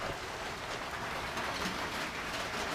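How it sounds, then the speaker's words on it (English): Heavy rain falls steadily outdoors, a dense, even hiss of drops on surfaces at moderate level with no breaks, continuous for the whole stretch. "it's the next day and it's raining"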